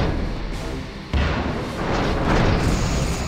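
Heavy booming torpedo impacts roll continuously against starship shields in Star Trek Bridge Commander, a dense low rumble that surges sharply a little past one second and swells again toward the end.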